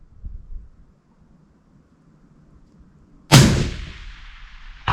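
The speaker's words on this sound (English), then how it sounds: "Made a 400-yard shot." A hunting rifle fires at a target 400 yards away on a farm: quiet outdoor ambience, then a single sharp, loud crack with a long rolling echo, and the start of another loud burst at the very end.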